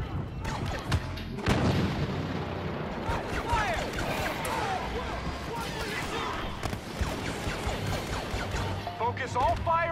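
Stinger pistol gunfire and battlefield blasts in Star Wars Battlefront, with sharp shots, booms and crashes scattered over continuous action, mixed under a player's excited talking.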